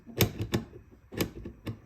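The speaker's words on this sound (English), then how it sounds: "Let me get my articulator lubricated up a little bit" A dental articulator holding denture occlusion rims is adjusted and moved, giving sharp hard clicks and taps in two uneven clusters, close and fairly quiet, with no talking.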